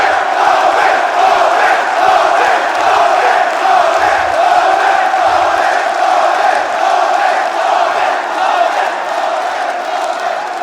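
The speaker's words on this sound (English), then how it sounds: "The crowd fires up." A packed esports arena crowd at a Rainbow Six Siege major in Atlanta roars and cheers in a loud, sustained wall of voices that holds steady throughout.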